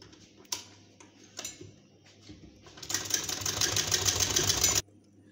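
A sewing machine stitching lace onto a readymade dress, with a steady rapid mechanical whir running for about two seconds after some light handling clicks and rustles, then stopping abruptly, close and moderately loud.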